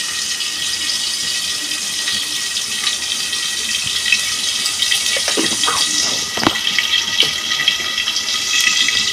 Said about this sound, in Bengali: আমার কষানো হয়ে গেছে, আমি একটু জল দিয়ে দিচ্ছি।